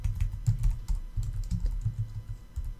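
Close computer keyboard typing as text is entered in Adobe Illustrator, a run of distinct keystrokes in irregular bursts with brief pauses, fairly loud and alone without speech.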